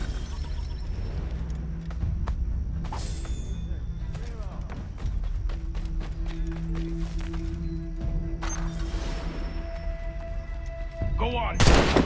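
Musket gunfire in a battle in Assassin's Creed III, with repeated thuds and volleys over a steady rumble and faint voices, ending in a louder crack near the close.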